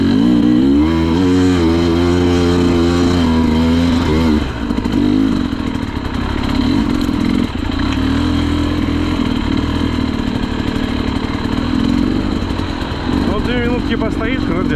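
An enduro motorcycle racing in the Bronze-class prologue of the Shustraya Belka 2024 event, its engine running loud and close with repeated throttle surges and a brief dip partway through, while voices shout over it.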